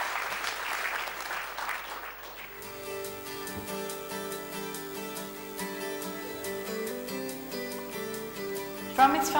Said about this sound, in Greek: Θα ήθελα να ξεκινήσω το βίντεο όλοι μαζί να χειροκροτήσουμε